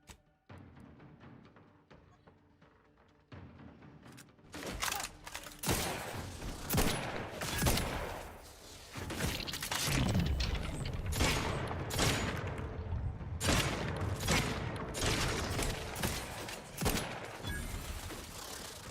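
Video game gunfire starts after a quiet mechanical opening and builds into sustained, fairly loud automatic bursts mixed with clicking weapon mechanisms, firing almost continuously to the end.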